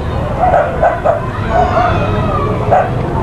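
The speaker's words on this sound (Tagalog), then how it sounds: "Oh, galit yung aso." A dog barks in short, sharp bursts, several yips and growly barks close by, with background noise throughout.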